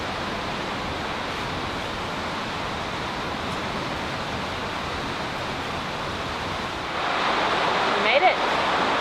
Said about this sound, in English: Sitting in a throne next to the waterfall.